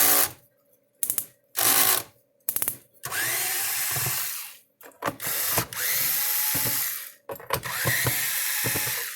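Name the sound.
unscrewing Phillips screws from a Speedrite fence charger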